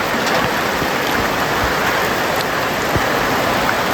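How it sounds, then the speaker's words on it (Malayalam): Rain falls steadily and loudly on a forest route on the Erumeli to Sabarimala pilgrimage trail, a dense continuous patter with scattered heavier drops, close by and with no voices. "ഈ ഏതാണ്ട് 1/2 മണിക്കൂറായി മഴ പെയ്യുന്നത്"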